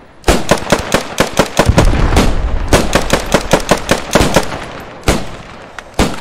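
Machine gun firing in the World War II shooter Post Scriptum, loud close bursts of rapid sharp shots in a fast steady rhythm, breaking off briefly and resuming with a few final single shots.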